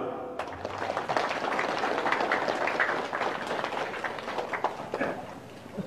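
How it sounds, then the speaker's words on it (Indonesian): Audience applause at an Islamic religious gathering, brisk crowd clapping that swells after a short opening and continues steadily, with scattered louder claps close by. "Tepuk tangan."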